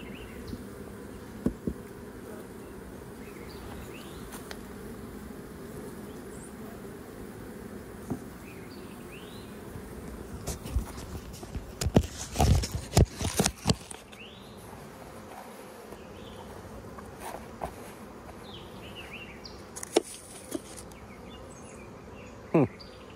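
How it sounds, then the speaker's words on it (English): Honey bees buzz continuously around six beehives in an outdoor bee yard, a steady drone close by with a few louder passes and brief handling noises midway. "I've got six hives in here right now."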